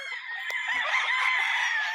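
A gray gamefowl rooster crows on a farm, one long, loud, close crow that carries through most of the two seconds, with a brief cluck near the middle.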